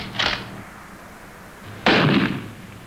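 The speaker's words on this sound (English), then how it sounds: "These are live bullets he's firing." Rifle gunfire in a 1959 film, two loud sharp shots with echoing tails, the second heavier and more booming, spaced about a second and a half apart.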